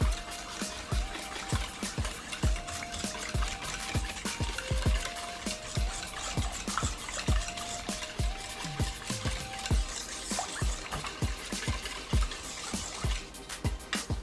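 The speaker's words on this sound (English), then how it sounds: "we're gonna whisk this together" Vegan pumpkin pie batter whisked by hand in a bowl, a steady fast rhythm of wet clicking strokes repeating throughout, close and moderately quiet with no talk.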